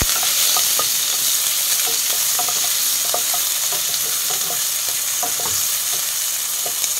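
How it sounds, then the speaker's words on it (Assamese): Finely chopped onions fry in a pan for a prawn soup, a constant loud sizzle broken by frequent scraping taps of a spoon as they are stirred, with no talking. "অলপ সোণালী ৰং হোৱালৈকে পিয়াজখিনি ভাজিব লাগিব"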